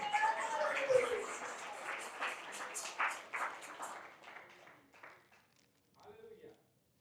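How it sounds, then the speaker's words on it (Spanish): A voice starts things off, then a church congregation claps for a few seconds in applause for Jesus before the applause fades and the pastor speaks briefly again in Spanish. "Denle aplauso de gloria a Jesús."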